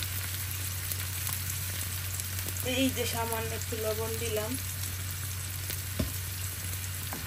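Continuous sizzle of garlic and tomato frying in a pan with occasional stirring, while a person speaks briefly over it.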